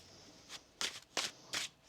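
Tarot cards are shuffled in three quick, crisp riffling bursts close by, each a short papery flutter separated by brief pauses, with no talking.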